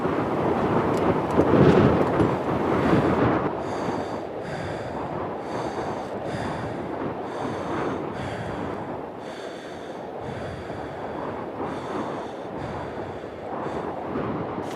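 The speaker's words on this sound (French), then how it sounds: "Rester concentré malgré le vent qui souffle encore et encore." Wind roars steadily on a Matterhorn climb near 4500 metres, a loud, continuous rush buffeting the microphone, strongest in the opening seconds and then holding at a constant blustery level, with no voices.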